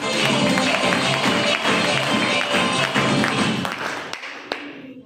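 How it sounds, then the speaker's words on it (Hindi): A crowd claps steadily for a participant at a program, dense, sustained applause filling the room for about four seconds before quickly dying away. "एक बार इस साथी के लिए जोरदार ताली बजाइए।"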